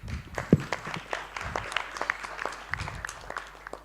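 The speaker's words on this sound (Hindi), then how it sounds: "तो आप सबके लिए सबसे पहले ज़ोरदार तालियां" Applause for competition contestants on a Hindi talent show stage, a thin scatter of individual claps rather than a full roar, moderately faint with some crowd noise and sharp accents.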